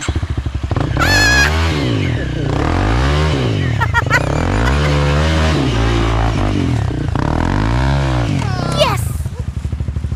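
A motorcycle labours uphill on a forest fire patrol near a hill village, its engine revving and falling in repeated strained surges for the whole stretch, close and loud, with people talking and calling out over it.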